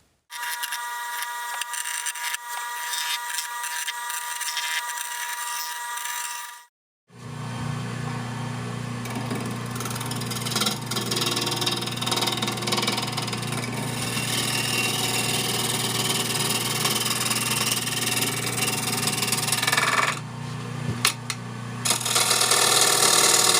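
A power tool cuts through glued-up 2x6 waste wood for bangles, its steady loud mechanical drone running almost continuously after a brief start, with a short dip midway and no talk.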